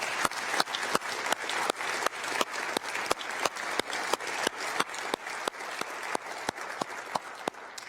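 Applause for veterans at a televised town-hall meeting with a governor, heard as a fairly faint, regular run of claps in a steady rhythm, each sharp slap evenly spaced over a low room hum.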